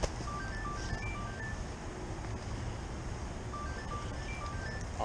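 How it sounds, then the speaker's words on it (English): A mobile phone rings outdoors on a shoreline during walleye fishing, its bright electronic melody repeating in short chirpy phrases over steady wind and ambient rumble. "Hold on, I got a phone call."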